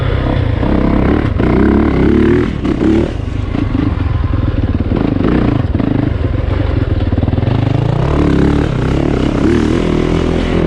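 A 2020 Yamaha YZ450FX dirt bike engine lugging at low revs while being ridden, a loud, steady, close-up thumping drone with some clatter running throughout.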